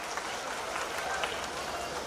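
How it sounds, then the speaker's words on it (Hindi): A crowd claps loudly to welcome guests seated on stage at the Lucknow Municipal Corporation's 2021 Diwali fair opening, a dense, steady wash of applause filling the whole stretch without pause, with faint crowd murmur beneath. "आप सब एक बार जोरदार तालियों से सभी का मंचासीन समस्त अतिथियों का स्वागत करें।"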